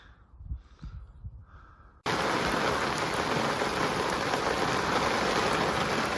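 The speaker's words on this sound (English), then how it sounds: "The rain is really coming down now." After a few faint knocks, heavy rain abruptly fills the scene with a dense, loud, steady hiss of pouring water, heard from a boat moored on the Norfolk Broads.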